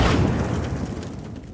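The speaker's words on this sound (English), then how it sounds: "The frag grenade explosion cuts off the rest of the sergeant's word." A frag grenade bursts in one loud, close boom that rolls off into a fading rumble over about a second and a half, with no voices.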